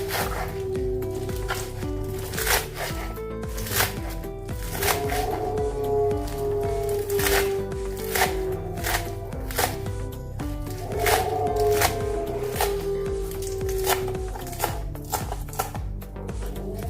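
A knife chops fresh spinach, stems included, on a board in a home kitchen, the blade striking in quick, fairly regular rhythmic taps that run for a long stretch with a faint background hum.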